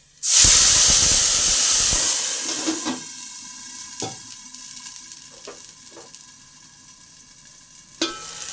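Loud sizzle as flatbread drops into hot oil in a wok, a bright hiss that slowly fades, followed by a few sharp clinks of a utensil against the pan.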